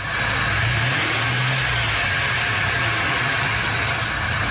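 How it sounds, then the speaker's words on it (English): Car engine revving close by, a steady loud running drone with a brief rise in pitch early on before settling back to a constant hum, no talking. "Let me rev it."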